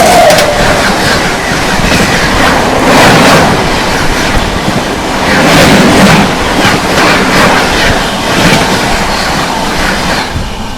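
The Barauni–Bandra Terminus Avadh Express rushes past close by, heard from a neighbouring moving train, with a loud continuous roar of rolling wheels and rhythmic clickety-clack, plus faint squeals and surges through the length of the pass.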